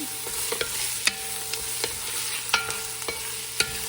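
Carrots and celery sizzle in a soup pot as they are stirred, with steady frying hiss broken by sharp spoon scrapes and clicks roughly every half second; no voices.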